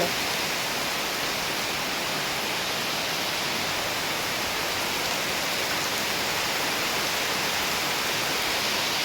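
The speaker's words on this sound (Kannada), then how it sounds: "ತುಂಬ ಮಳೆ ಬರ್ತಾ ಉಂಟು ಜೋರಾಗಿ ಮಳೆ ಬರ್ತಾ ಉಂಟು" Heavy rain pours in a dense, unbroken roar, loud and steady with no voices or other sounds breaking through.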